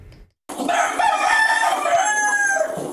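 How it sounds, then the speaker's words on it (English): A rooster crows once, loud and close, a long strained call that fills the clip after a brief silent pause. "That rooster call wasn't a wake-up call Sunday"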